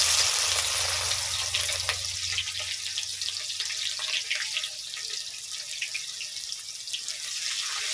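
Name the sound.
chopped onions frying in oil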